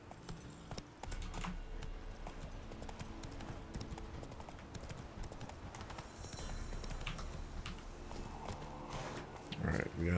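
Horse hooves clip-clop steadily in The Witcher 3 as a rider travels, a continuous rhythmic trot over a busy ambient game soundscape, with a sharper burst near the end.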